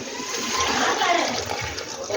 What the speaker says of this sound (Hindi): अब मैं वो जो सी यखनी बनाई थी ना, वो इसमें डालूँगी।